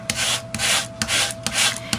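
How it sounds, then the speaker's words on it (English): A sanding block rubbed back and forth over a craft metal sheet, four distinct scraping strokes in a steady rhythm, close and fairly loud with no voices. "I'm going to take my sanding block and I'm going to go over it."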